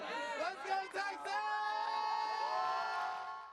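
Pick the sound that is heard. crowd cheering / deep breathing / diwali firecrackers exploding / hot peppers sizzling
crowd cheering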